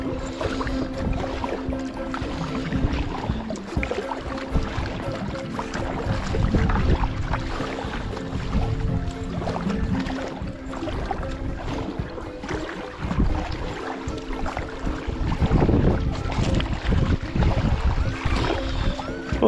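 A float tube paddled across open water, with steady rumbling wind buffeting the microphone, soft watery swishes and splashes, and a faint low hum running throughout.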